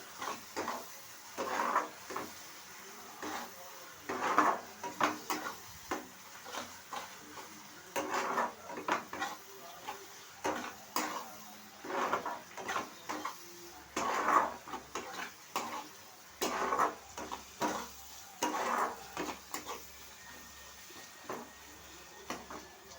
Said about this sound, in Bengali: সব মশলাগুলো দিয়ে এবার একটু কষতে থাকবো